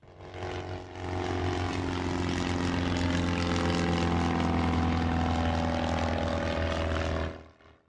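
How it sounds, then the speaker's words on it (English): A model aircraft engine roars loudly as it flies in during a competition event, rising from silence to a sustained propeller drone that holds steady, then fades away. "I hear the roar of Derek's engine."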